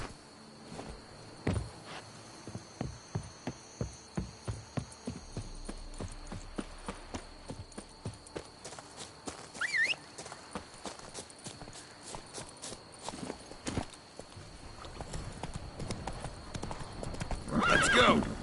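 A horse named Roach walks along with clear, evenly spaced hoof clip-clops up close, gives a brief whinny partway through, and the steps quicken and grow louder toward the end, with a voice speaking at moments.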